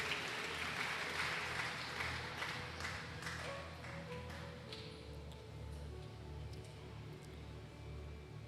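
A church congregation applauds in a dense wash of clapping that is strongest at the start and slowly thins and fades over the following seconds, heard at a distance with a low steady hum beneath it.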